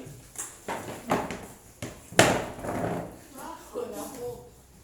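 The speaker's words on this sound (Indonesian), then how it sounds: "Bangkunya dirapikan kembali." Classroom benches are shoved back into place, a series of sharp wooden knocks and thumps with one louder scraping bang midway, close by, while voices talk underneath.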